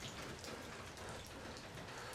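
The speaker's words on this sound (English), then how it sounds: "it's just a thunderstorm started and it's opened up and it started raining" Steady rain pours down during a thunderstorm over a Croatian homestead garden, a dense, continuous hiss of drops close by with no voices.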